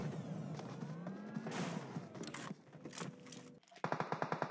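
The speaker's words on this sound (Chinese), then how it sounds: "又有个不怕死的开枪扫车。" Automatic gunfire sprays a vehicle in a battle-royale shooter game, rapid bursts of shots crackling over engine noise, ending in a fast, loud string of close rounds.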